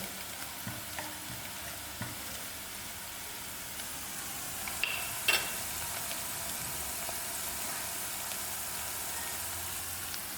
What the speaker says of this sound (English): Allow this masala to cook for a few minutes while stirring.